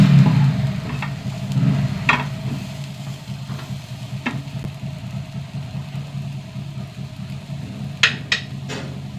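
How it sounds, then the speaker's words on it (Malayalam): A small ripe tomato sizzles in a pan of frying curry, a soft steady crackle broken by a few sharp scraping stirs near the end. "ഇതിലേക്ക് ഒരു ചെറിയ തക്കാളി നല്ല പഴുത്തത് ഇട്ടാൽ"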